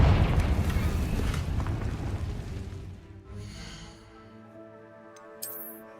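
A Confringo fire spell from Hogwarts Legacy bursts in a loud, rumbling explosion that fades slowly over several seconds, followed by a faint sharp chime near the end.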